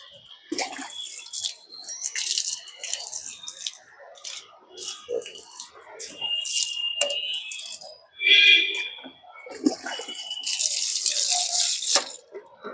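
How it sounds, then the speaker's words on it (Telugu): Water is poured in uneven bursts, splashing and trickling close up, with brief pauses and a louder gush near the end. "వాటర్ పోస్తుంటే మెల్లిమెల్లిగా వెళ్ళిపోతుంది"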